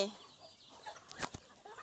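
Chickens clucking at a Thai farm, a few short clucks near the end of a quiet stretch, faint and close.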